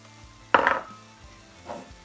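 Red onion hits a hot pan with a sudden loud sizzle that quickly fades to a low hiss, followed by a softer second burst a moment later, while potatoes cook for potato and goat cheese empanada filling.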